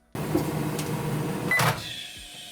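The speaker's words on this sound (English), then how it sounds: "Just bang them in the microwave for 20 seconds" A microwave hums steadily after starting with a click, heating garlic for about 20 seconds, then a short beep-like tone and a thunk as the hum drops away.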